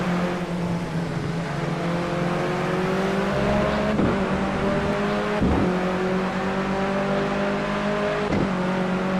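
A BMW 320tc touring race car in Project CARS drives at Oulton Park, its engine droning loud and continuous with rising revs and a few gear-shift dips and bumps along the way.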